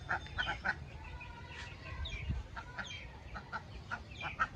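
Backyard chickens clucking with chicks, scattered short clucks and peeps at moderate distance over a soft, steady outdoor background.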